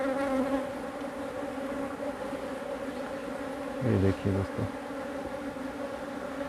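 Honey bees hum and buzz on the hive frames in a close, steady drone, with someone briefly speaking over them partway through.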